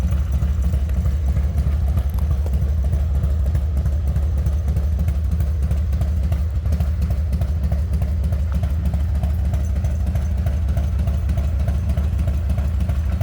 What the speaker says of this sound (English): Nice sounding bike.